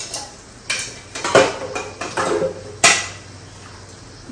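A cooking pot and its lid clank and clink several times at close range as frozen beans are set to thaw in water over low heat, with sharp metallic knocks and a few softer rattles.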